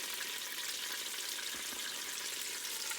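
Chicken pieces browning in a hot pan give off a steady, close sizzle of frying with a faint scrape as they are flipped.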